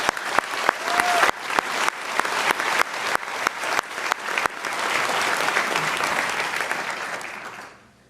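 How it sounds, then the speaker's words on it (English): A graduation-ceremony audience applauds first-generation graduates, sharp individual claps standing out over a broad, sustained ovation that swells, holds steady, then fades out near the end. "So please join me also in a round of applause for all of our first-generation graduates."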